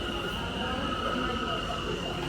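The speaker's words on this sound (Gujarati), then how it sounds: "એક પ્લેટફોર્મ ઉપર ટ્રેન આવી ગઈ છે આ બાજુની" A train rumbles at a platform, a steady low mechanical drone with a high whine, heard from fairly close.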